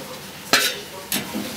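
Two quick sizzling bursts as a wholemeal chapati is laid into a hot frying pan, close and brief, with quiet kitchen room tone in between.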